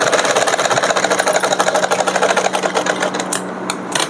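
A sewing machine runs steadily, close and loud, stitching a fabric seam on a small dress for a Laddu Gopal idol, with a fast even mechanical rattle that eases slightly at the end; no voices.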